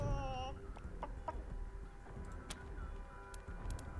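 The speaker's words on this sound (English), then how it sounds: "Chicken." A chicken clucks in the video game Wasteland 3: a short throaty cluck at the start, then a few faint clicks and a low game ambience underneath.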